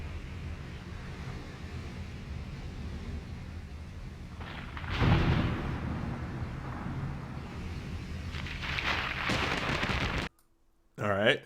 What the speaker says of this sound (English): All right, 2 lightning strikes